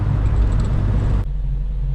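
Volvo Amazon with a Weber carburetor, jets running slightly rich, driving through traffic: a steady, loud low engine rumble from inside the car, dropping briefly in level partway through and then continuing.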